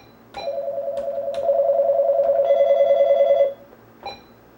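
A telephone on a radio phone-in line rings with a steady electronic warble, loud and close, holding for about three seconds and then cut off, followed by one brief chirp.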